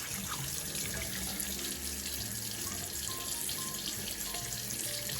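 A faucet runs steadily into a sink to wet the face before a straight razor shave, a constant close splashing hiss with no pauses.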